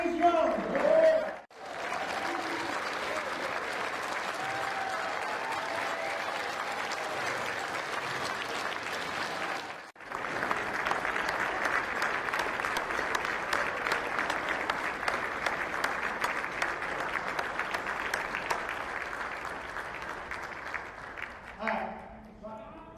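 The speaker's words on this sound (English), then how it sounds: "give him a round of applause and say happy birthday" A banquet audience at a high school athletic hall of fame dinner bursts into sustained applause for a birthday, dense clapping filling the room for a long stretch, with voices calling out and talking in between.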